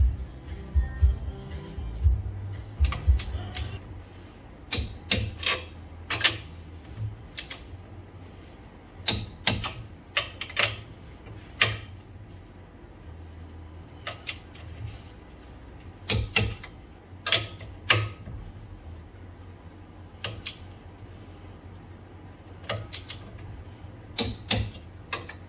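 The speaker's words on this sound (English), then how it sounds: "time to torque the U-bolts. I'm gonna torque them to 55 foot-pounds." A torque wrench tightening U-bolts to 55 foot-pounds on the rear axle of a 1974 Pontiac 455 Trans Am, heard as a series of sharp metallic clicks in scattered clusters, close and fairly quiet.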